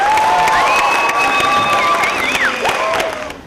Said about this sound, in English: So a big cheer to yourselves.